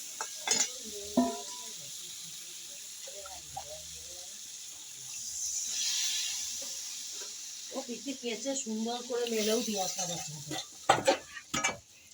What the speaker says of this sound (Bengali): এবার আমি আলুটা দিয়ে দেবো দিয়ে একটু নাড়াচাড়া করে নেবো মশলার সঙ্গে আলুটা